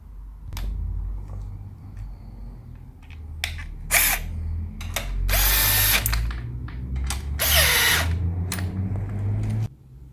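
Power drill or impact tool tightening bolts during assembly of an ATV 70, heard as several short whirring bursts and two longer high-pitched runs between quieter ratcheting and clanking, close and loud with no talk.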